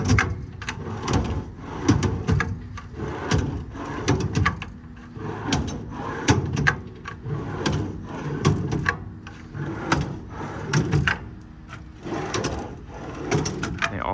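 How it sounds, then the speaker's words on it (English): Drawers in the service body of a 2016 Kenworth T370 truck slide open and shut again and again. Close rolling rumbles end in sharp knocks, in a steady rhythm with no talking. "a large set of drawers here. Most of these also have dividers already put in them. They all slide extremely nicely"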